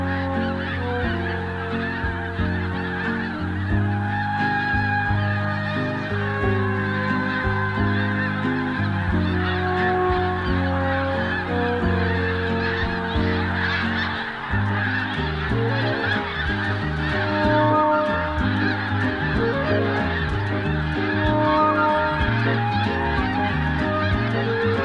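A flock of snow geese on migration honks continuously as the birds plane down to a stopover, many overlapping loud calls filling the air without a break.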